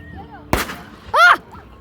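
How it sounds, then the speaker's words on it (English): Fourth of July fireworks exploding, two loud close bangs about half a second apart, the second followed by crackling and whistling, with excited voices reacting around them. "I just saw fireworks, guys."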